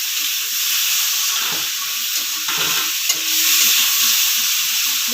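Tomatoes with salt sizzle steadily in a hot frying pan on a gas stove as they are stirred, giving a loud continuous frying hiss with occasional scraping of the spoon.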